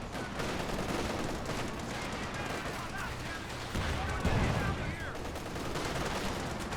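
Sustained rattling gunfire and machine-gun bursts in a Company of Heroes 2 battle, dense and continuous, with a heavier thump of fire partway through amid other battlefield noise.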